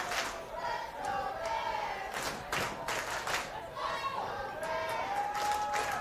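A crowd at a 4A girls lacrosse state championship cheers and claps in steady waves, with shouts rising and falling over a constant murmur of the stands.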